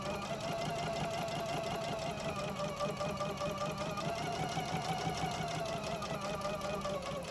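A close sewing machine stitches a fabric face mask along a pipe cleaner in one continuous steady run, a fast even mechanical whir and rattle throughout, with no pauses and no talking.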